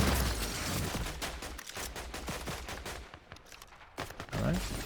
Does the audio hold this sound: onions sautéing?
no